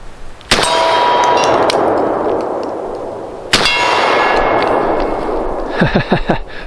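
A CZ 712 shotgun fires 1-ounce slugs at a steel target 25 yards away. Two sharp, loud shots are each followed by a ringing clang from the steel, and a cluster of clattering mechanical clicks comes at the end.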